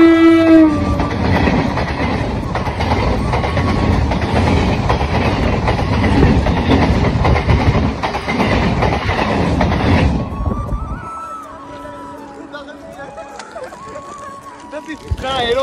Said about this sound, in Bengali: ট্রেনে চলে এসছে